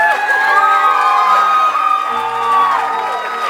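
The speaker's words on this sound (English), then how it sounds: "keep your applause going" Wedding reception guests at the Wachusett Village Inn in Massachusetts cheer, whoop and applaud the newlyweds, a loud, dense crowd roar with shrill shouts that holds steady throughout.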